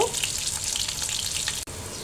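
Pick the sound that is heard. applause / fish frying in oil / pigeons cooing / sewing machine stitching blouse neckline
fish frying in oil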